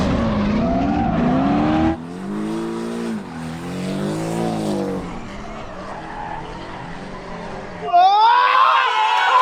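Porsche race car driving on a brand-new track at a fresh facility, its engine revving and shifting, with a sharp squeal or rising whine near the end, loud and close.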